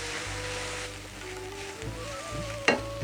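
Gram flour and coconut milk sizzle and frying in a pan for a traditional CKP-style Indian cake, with steady stirring and scraping throughout and a sharper clatter of the spoon near the end.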